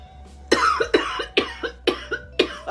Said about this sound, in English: I knew a cough was coming.